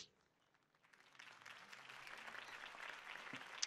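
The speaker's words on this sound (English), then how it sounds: "could have heard that applause" Applause from a crowd in the video game Batman: The Telltale Series builds from near silence into steady clapping that keeps going, moderately loud and slightly distant.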